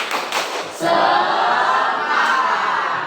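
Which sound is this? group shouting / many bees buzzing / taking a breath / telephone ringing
group shouting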